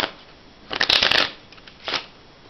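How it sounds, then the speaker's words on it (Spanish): A deck of playing cards is shuffled by hand during a card trick: two close, crisp bursts of riffling, the first longer and louder, the second short, with no voices. "Voy a barajar un par de veces."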